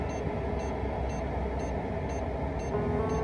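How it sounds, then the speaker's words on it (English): A FlySky RC transmitter's alarm beeps in short, evenly spaced pulses, about six over a few seconds, above a constant loud whir of wind and motor noise. "And why did that alarm kick in?"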